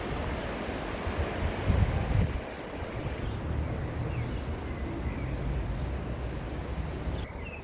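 Fast, high river water rushes past sluice gates in Thun, Switzerland, as a steady, loud, broadband roar with wind buffeting the microphone. No voices are heard.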